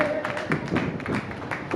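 Audience applause at a Hindi poetry recital in Delhi, a short patter of scattered claps from a modest crowd.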